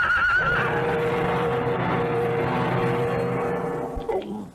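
A horse neighs loudly after falling on an icy road, in a dramatized period scene. The long, strained whinny is close and continuous, tapering off with a few clattering sounds at the end.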